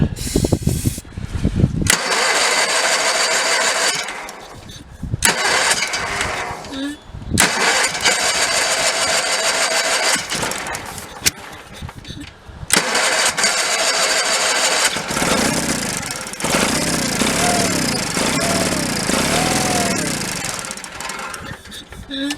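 A Case Ingersoll garden tractor's Onan B48M twin-cylinder engine cranks over and over without catching, in loud bursts broken by short pauses, with a voice heard near the end.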